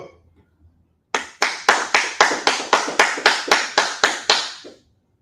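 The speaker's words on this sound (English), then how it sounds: "All right, clap it up." A group claps hands in unison, about twelve sharp, evenly spaced claps ringing out loud and close after a brief quiet start, then stopping.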